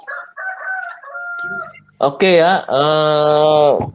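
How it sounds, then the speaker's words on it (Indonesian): Rooster crowing loud and close, one long strained cock-a-doodle-doo after some brief talk and other bird calls. "Ini ada suara ayam lagi sih."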